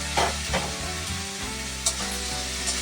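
Banana flower (mocha) hits a hot pan and fries with a steady close sizzle, broken by a few sharp stirring scrapes and spatters.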